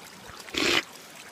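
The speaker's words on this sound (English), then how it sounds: "I'm gonna drink from this fucking stream right quick." Water from a mountain stream, likely a brief splash or trickle when someone scoops a drink, rising for about a quarter second in the middle of an otherwise quiet outdoor moment.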